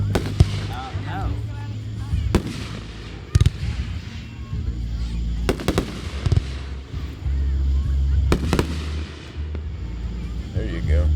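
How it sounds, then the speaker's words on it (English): Fireworks bursting at a family Fourth of July show, several sharp booms and crackles scattered across the clip at close-to-mid distance, with people talking and low rumble between the blasts. "Aim at the fireworks, Nate."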